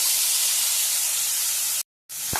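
Cucumber pieces hitting hot oil in a pan give a loud, steady broadband sizzle and hiss that runs almost two seconds, cuts out briefly, then resumes with a small clatter.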